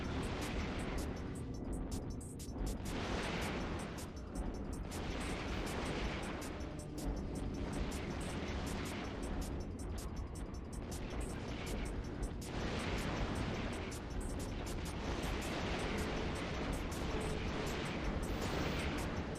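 A ship blows up in the EVE Online space game, a sustained, loud, rumbling blast with roaring broadband noise and surging bursts that keep up through the whole stretch, with no talk over it.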